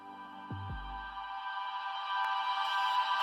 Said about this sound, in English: to print out little reverse sounds like this.